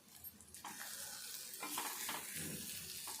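Egg mixture with crushed chillies and red chilli powder sizzles softly in a frying pan, with a faint spatula scraping and stirring steadily over the low hiss.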